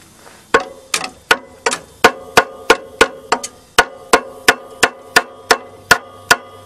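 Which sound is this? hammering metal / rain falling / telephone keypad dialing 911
hammering metal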